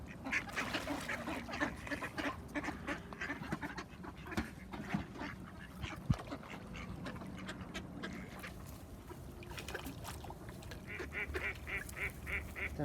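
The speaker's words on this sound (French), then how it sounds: "j'ai tous les canards du lac" Ducks on a lake quack repeatedly in scattered bursts at moderate distance, with some honking calls mixed in over faint outdoor background noise.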